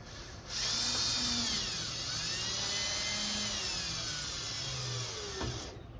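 A power drill drives screws into an old farm truck, giving a close, steady high-pitched whine that holds for about five seconds and then stops.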